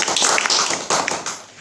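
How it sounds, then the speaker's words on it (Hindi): Audience applause breaks out in a hall during a talk, a dense wash of many hands clapping with brief swells, loud and close throughout. "इनके लिए ताली बजाइए आप"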